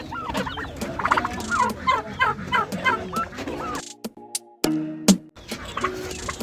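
Turkeys housed with chickens on a multi-bird farm gobble in a rapid rattling series, close and fairly loud, followed by a few sharp isolated calls and brief pauses.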